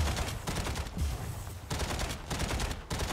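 Rapid carbine gunfire from the Mech Arena video game rattles in dense, continuous bursts, loud and close, with only brief gaps between volleys.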